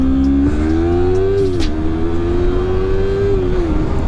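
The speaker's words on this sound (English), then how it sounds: "but the exhaust sounds hella different. It doesn't sound as beefy." A Yamaha MT-03 motorcycle with its stock exhaust accelerates up close, the engine note climbing steadily in pitch, dipping on a gear change, then rising again, loud and alone without speech.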